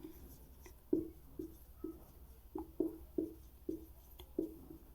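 Chalk or marker writing on a board during a chemistry lesson on benzene reactions: a series of short, distinct strokes and taps at an uneven rhythm, close and fairly quiet, with no voice.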